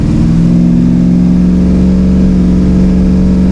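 LS-swapped Dodge Dakota pulling hard through its gears, a loud, steady V8 drone with a strong low hum held close throughout.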